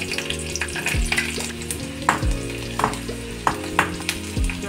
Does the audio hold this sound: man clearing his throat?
no